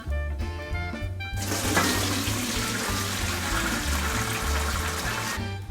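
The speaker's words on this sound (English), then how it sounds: "So what I'm going to do is use my strainer in this pot. Because you want to strain all this stuff." Chicken soup broth poured through a strainer into a pot, a steady rushing splash of liquid running for several seconds after a brief clatter, close and fairly loud.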